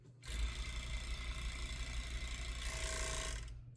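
Sewing machine stitching the short end of a waistband, with a steady mechanical whirring and rapid needle clatter that starts abruptly, runs about three seconds, rises slightly in pitch near the end and then stops.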